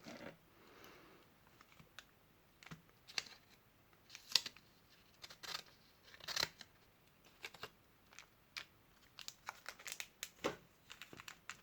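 Foil wrapper of a Pokémon booster pack being handled and opened, with quiet close crinkles, snips and sharp tearing clicks in irregular bursts against a near-silent background.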